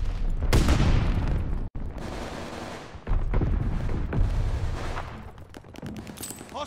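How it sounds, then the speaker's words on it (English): A stun grenade going off in a Call of Duty match amid loud gunfire: sharp booms and rattling bursts in quick succession, broken by a brief silent gap, then more blasts that fade slightly near the end. "Stun grenade out."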